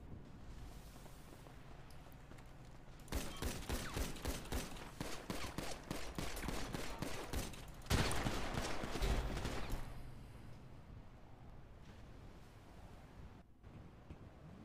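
Rapid gunfire in the Grand Theft Auto Los Santos game world, a sustained fusillade of dense repeated shots rattling for several seconds under a windy, washing background, then dying back to ambient noise.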